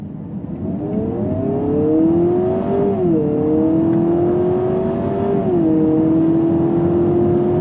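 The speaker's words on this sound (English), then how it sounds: "We're gonna go on throttle here. We are going uphill" A 2026 Honda Prelude accelerates uphill under throttle, its engine note climbing steadily with two brief dips as the revs fall and rise again, heard close from inside the car without talk.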